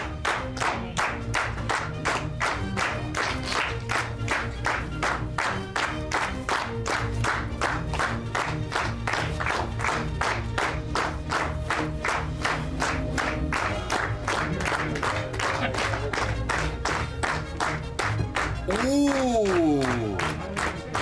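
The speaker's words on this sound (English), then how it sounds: "A little bit of clapping would be very good tonight" Studio audience clapping steadily and loudly at a wrestling talk show, a dense rhythmic patter running for the whole stretch, with scattered whoops and a rising cheer near the end.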